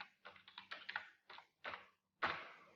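Computer keyboard typing while writing Python code: irregular bursts of quick, close taps in short clusters separated by brief pauses, ending with one louder keystroke cluster, no talking.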